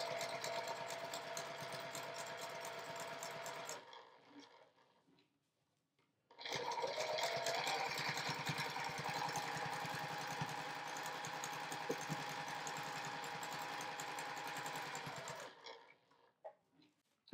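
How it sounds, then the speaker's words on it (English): A sewing machine top-stitches a quilt project in two steady runs of rapid mechanical whirring and clatter, split by a short pause, then stops with a few faint clicks. "I'm gonna top stitch over the stitches that I started, and that'll tack it all in place"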